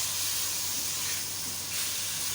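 Minced mutton keema roasts in a pan with a dense, constant hissing sizzle, close and fairly loud, over a faint low hum.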